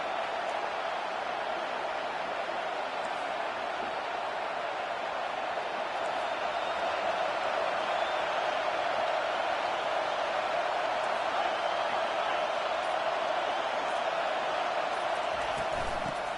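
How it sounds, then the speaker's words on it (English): A packed football stadium crowd roars continuously to back the home defense, a dense, loud sustained wall of cheering with no break. "Listen to this crowd just shaking the girders of this place,"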